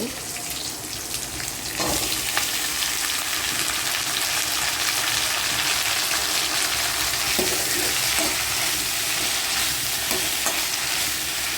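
Onion, dried red chili, curry leaves and bitter gourd frying in hot oil, a steady loud sizzle throughout with occasional stirring clinks.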